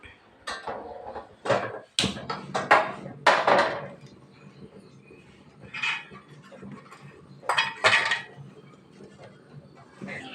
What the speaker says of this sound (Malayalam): ഇഡലി പാത്രം അടുപ്പിൽ വെച്ച് നമുക്കൊന്ന് കത്തിക്കാം